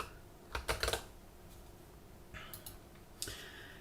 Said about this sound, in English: this time I'm going to type security